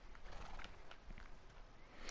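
Horse hooves clip-clopping in a PS4 video game, a faint, steady patter of steps beneath a soft background wash, with no clear talk over it.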